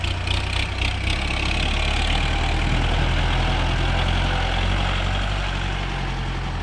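A used 2015 Kubota L4708SP tractor's diesel engine idles steadily and close by, a continuous low rumble with a even chugging pulse and no pauses or voices.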